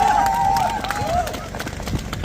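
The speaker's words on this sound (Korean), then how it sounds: "박수 한번 부탁드리겠습니다." A rally crowd claps and cheers for Democratic Party candidate Park Yun-guk at a campaign kickoff in Gapyeong, with steady applause mixed with babble and a thin whistle-like tone over the top.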